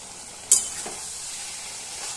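Vegetables with chilli and sugar stirred in a frying pan, a soft continuous sizzle with a sharp scrape near the start, close and moderately quiet.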